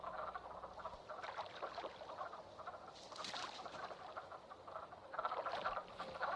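A chorus of frogs croaks continuously, with overlapping rasping calls swelling and fading, moderately close, and no voices present.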